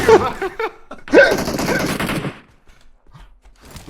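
Gunfire in the battle royale game PUBG Mobile on the Miramar desert map: a loud, dense automatic burst runs for about two seconds, then drops to faint distant noise.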